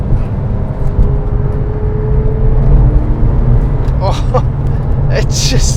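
A Porsche 911 997.2 accelerates out of a corner. A steady engine drone rises under the throttle from inside the cabin, and someone talks over it throughout.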